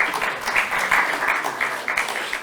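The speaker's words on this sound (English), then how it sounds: "So let's give a round of applause to Uwe Bacher." Audience applause at a presentation on 3D digitisation of Tallinn city buildings, a moderate crowd clapping steadily for a couple of seconds at mid distance after a speaker is introduced.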